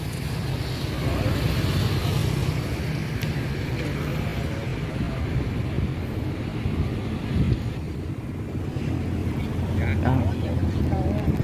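On a Vietnamese river, a boat's engine drones in a steady low rumble as the craft draws in toward the bank, with wind buffeting the microphone. A voice talks over the engine throughout.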